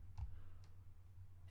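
Three soft, sharp computer mouse clicks, evenly spaced, fall close and quiet over a low steady hum while kick drums are drawn in Ableton.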